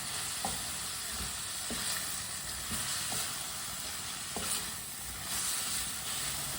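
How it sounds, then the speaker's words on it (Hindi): Half a kilo of cut cauliflower fries in a pan while a spoon keeps stirring it, making a constant loud sizzle and hiss broken by light scraping knocks of the spoon. "गोभी को चम्मच चलाते हुए पकाना, नहीं तो एक साइड से पक जाएगी"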